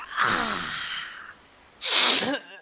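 Two loud sneezes, one long and one shorter after a pause, close up with no talk, from a person caught in monsoon rain in India.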